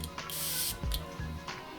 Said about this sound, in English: Now I'm going to spray this on my hand while I'm talking because I want you guys to see the sprayer in the concentration.